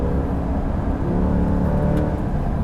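A 2020 Corvette C8 Z51 engine pulls hard on a race track in third gear at about 3,500 RPM, a loud, steady, close-up drone with dense rumbling harmonics and no pauses.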